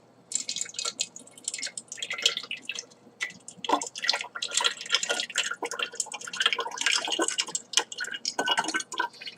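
Water being poured from a bong into a can off to the side, heard as a run of close dripping, trickling and splashing sounds that continues steadily throughout.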